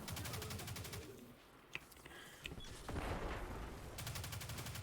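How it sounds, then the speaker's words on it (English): Weapons firing in the video game Destiny 2, including a rocket launcher: rapid bursts of repeated shots open and close the moment, and a brief blast comes midway. The sound is faint overall. "Do enjoy firing this rocket launcher."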